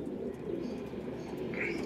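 Pigeons, among them Golden Eyes birds, coo softly inside a pigeon loft, a few low murmuring calls over a steady background with one higher chirp near the end.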